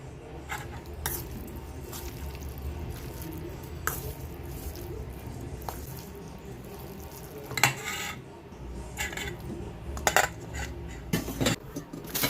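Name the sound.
mixing black pepper into a seasoning mixture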